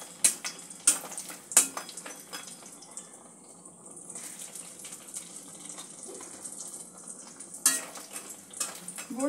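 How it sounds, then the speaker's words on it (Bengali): Bori lentil dumplings fry in a pan, a soft, continuous sizzle broken by sharp metallic scrapes and clinks of a spatula against the pan, close by, with quieter stretches between the stirring strokes. "বড়িগুলো ভেজে নেব"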